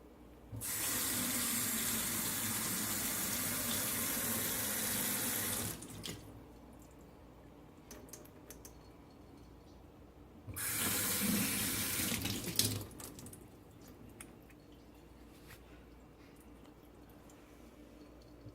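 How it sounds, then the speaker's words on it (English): A touchless kitchen faucet runs in two long streams, switching on and off with a quiet gap between, water splashing into a top-mount sink nearby. "The following video is a demonstration of the new faucet's functionality."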